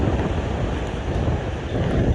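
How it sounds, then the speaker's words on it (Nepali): Strong wind buffets the microphone on the high Hillary Suspension Bridge in Nepal, a steady, loud roaring rush that fills the whole moment without any voices. "हावा जोडले चलिरहेछ। हावाले पुरै हल्लाउँदो रहेछ।"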